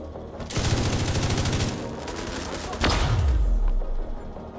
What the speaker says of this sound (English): there's actually somebody shooting